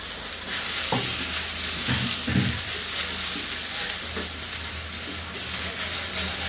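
Chopped onions frying on high heat in mustard oil in a frying pan: a loud, continuous hissing sizzle with a few soft stirring knocks, close up and without voices.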